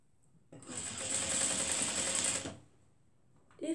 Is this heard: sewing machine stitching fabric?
yes